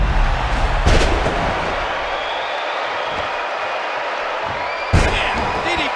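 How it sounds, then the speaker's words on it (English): A thunderous spinebuster slam in the wrestling video game WWE 2K14, a sharp impact thud over steady crowd roar, with a second hit near the end and commentary talking over it. "A thunderous spinebuster from the Brahma Bull."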